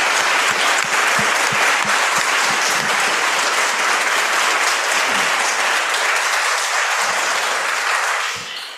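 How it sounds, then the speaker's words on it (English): A book talk audience bursts into loud, sustained applause, dense clapping close by that holds steady before trailing off at the end. "And can we give a massive round of applause to Rachel?"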